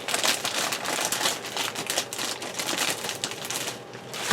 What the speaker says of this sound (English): let me open up the bag and pull out the stickers that this thing comes with